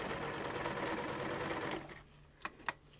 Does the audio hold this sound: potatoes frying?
no